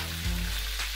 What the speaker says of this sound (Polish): Smaż na patelni, aż się zrumieni.